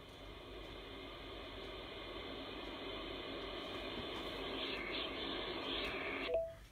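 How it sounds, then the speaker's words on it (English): Waterfall sleep sound played through the small speaker of a Vobot smart clock: a steady, fairly loud rushing hiss of water, continuous and unbroken, cut off abruptly near the end with a brief electronic chirp. "Play waterfall."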